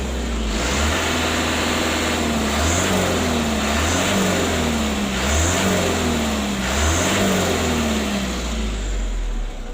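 The engine of a Mitsubishi Canter HD125 PS truck revs in repeated pulses close by, a heavy diesel drone rising and falling in about four regular surges.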